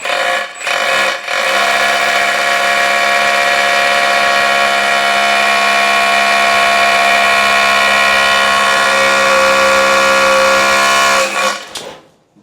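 A Texusbull 2.5-joule rotary hammer drill bores with an 8 mm bit for about ten seconds, a loud, continuous whining rattle that starts abruptly and cuts off near the end.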